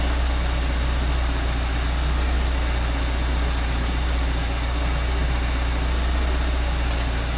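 A 1995 BMW E36 318i idles steadily after a thermostat replacement and cooling-system bleed, its engine giving a constant, even low rumble that stays close and unbroken throughout, with no voices.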